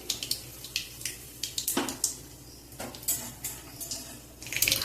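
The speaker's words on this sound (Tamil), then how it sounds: "கடுகு வெடிக்கட்டுங்க" Mustard seeds splutter in hot oil in a kitchen pan, giving irregular, sharp close-up pops and crackles that grow busier toward the end, with no talking.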